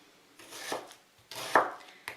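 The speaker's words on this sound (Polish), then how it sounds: "I cebulę pokroję w kostkę." A knife chops through a red onion on a board, two or three crisp cutting strokes with short scraping slides between them, close and fairly quiet with no talking.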